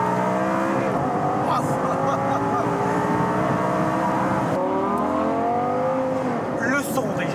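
Lamborghini Performante V10 engine heard from inside with the roof off, a steady loud droning roar with rising harmonic sweeps as it revs and shifts, running continuously throughout.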